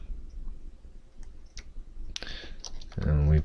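Computer keyboard typing during report production, scattered light key clicks close up, followed by a voice talking at the end.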